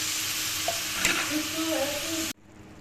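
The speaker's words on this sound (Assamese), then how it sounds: "মাছখিনি 2 মিনিটমান সময় এনেদৰে ভাজিলোঁ" Fish pieces fry in hot oil in a pan being stirred, giving a loud, dense sizzle with faint scraping for about two seconds before it cuts to a quiet background hiss.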